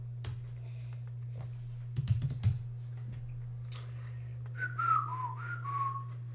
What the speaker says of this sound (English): Little bit of rhythm from my whistling.